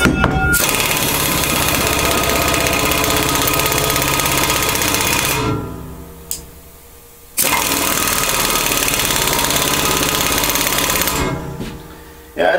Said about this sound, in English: we got the impact gun hooked up on a impact socket